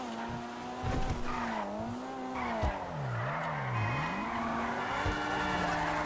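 A car in GTA 5 loses traction, tires squealing and skidding as the engine note wavers up and down through a corner, loud engine with screeching tire noise over several seconds.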